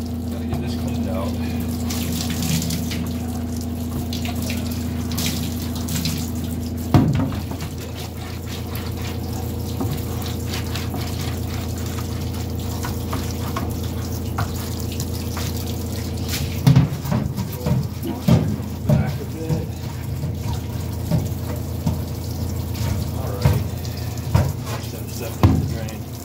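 Bathroom tap runs in a steady stream while a drilled plastic rain collector part is washed beneath it, the flow briefly changing partway through and then splashing and knocking irregularly as the part is handled.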